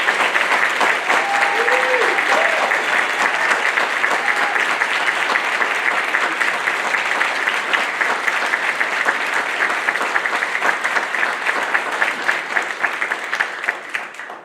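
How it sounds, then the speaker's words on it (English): Sustained applause from families and friends at a Navy nuclear field school graduation ceremony, loud and dense for the full stretch, with a few faint cheers early on before it tapers at the end. "please join me in a round of applause for the Navy's newest 3rd class petty officer"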